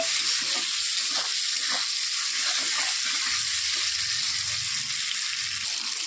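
Paneer fries in a pan with a constant, even hiss of hot oil and faint stirring scrapes underneath, close and with no voices.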